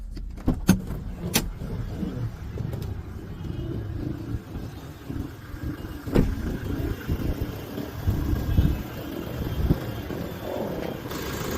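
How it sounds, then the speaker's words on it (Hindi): A 2019 Toyota Innova Crysta engine idles steadily at low pitch under an open bonnet, with a few sharp metallic clicks and knocks near the start and midway, no voices. "गाड़ी के इंजन की साउंड आप चेक करिए"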